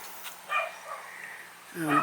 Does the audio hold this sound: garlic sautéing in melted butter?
no